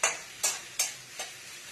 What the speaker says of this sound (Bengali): পেঁয়াজটাকে আমি লাল লাল করে ভাজবো।